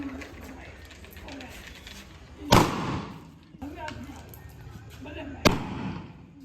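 Two sharp carbide gun blasts go off roughly three seconds apart, each a loud crack with a short ringing tail, amid faint voices and outdoor noise.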